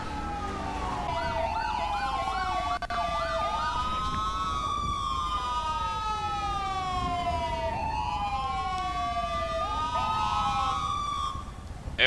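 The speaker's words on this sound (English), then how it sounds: "turn off your fucking sirens!" Several video game emergency vehicle sirens wail and yelp at once in GTA roleplay, overlapping sweeping tones that rise and fall continuously, loud and close, with no voices.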